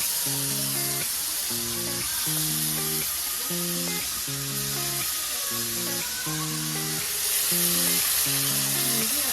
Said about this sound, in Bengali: এখন এটা ভাজা হবে লাল লাল করে